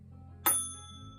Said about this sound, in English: I'm going to hit the third eye bell